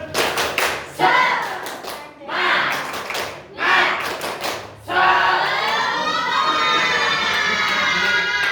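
A class of students performs a rhythmic spirit clap, with four loud bursts of clapping and chanting followed by a longer sustained stretch of clapping and voices close by.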